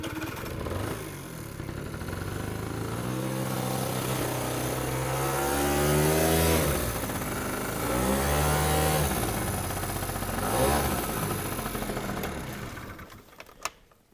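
A small motorcycle engine revs and drones steadily near the back of a pickup tailgate while the bike is loaded up a single ramp, rising and falling in pitch for several seconds before cutting off at the end.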